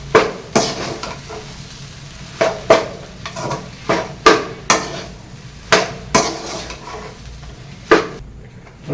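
Crumbled idiyappam is stirred with egg in a pan, producing a steady rhythm of sharp spatula knocks and scrapes against the metal, roughly two per second, close and fairly loud.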